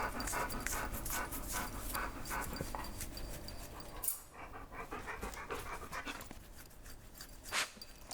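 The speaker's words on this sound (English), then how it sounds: "I have the sound of the dogs breathing like recorded" Dogs pant rapidly and steadily up close, a continuous breathy rhythm with a brief pause midway, then the quick huffing resumes.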